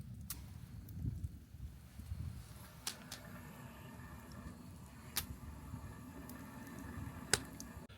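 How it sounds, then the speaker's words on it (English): Water heating in a pot on a camp stove for coffee during winter car camping: a quiet, steady low burner roar with soft bubbling and scattered sharp ticks and pops, close up, no talking. "I'm just sitting here boiling some water"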